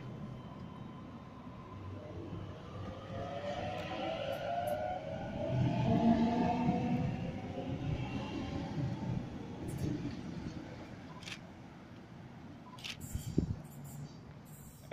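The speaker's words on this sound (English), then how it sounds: "here departing from platform number 2, we have an 8-car Waratah set" An 8-car Waratah electric train departs platform 2 at Mount Colah station in Sydney, its rising motor whine building steadily then fading, with a brief clank near the end, heard from the platform.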